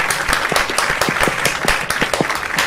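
Audience applause for a guest doctor introduced at an online talk on emotional intelligence, a steady run of rhythmic, evenly spaced claps from a small group, fairly close and continuous throughout.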